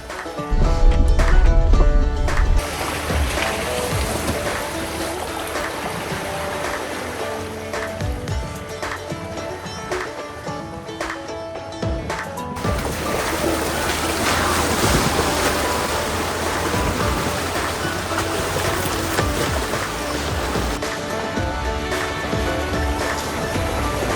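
An off-road vehicle pushes through a rocky-bottomed trail water crossing on Drummond Island, with continuous loud splashing and rushing water mixed with engine rumble and wind buffeting the microphone.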